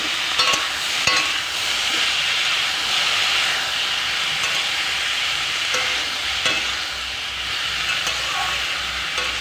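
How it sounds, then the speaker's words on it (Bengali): Sliced ridge gourd and potato fry in a pan, giving a steady, dense sizzle that continues throughout with occasional faint clicks and stirring knocks, no talking. "এটা একটুখানি ভাজা হোক"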